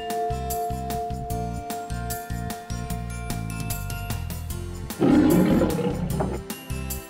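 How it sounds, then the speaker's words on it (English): A lion lets out a loud, deep, rumbling roar that swells near the end, heard over bouncy children's music with a steady beat and no voices. "It's a lion!"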